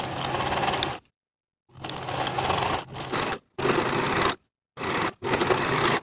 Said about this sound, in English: Now I'll sew the side edges of the pocket closed, and I'll finish the side edges from top to bottom on both sides.